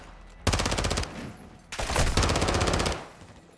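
MP7 submachine gun fire in Call of Duty: Modern Warfare 2, during a night-time campaign mission: two loud, close rapid-fire bursts, the first short and the second longer, with a brief pause between.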